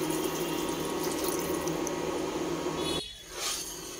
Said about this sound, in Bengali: এটার মধ্যে আমি ঝোলটা দিয়ে দেব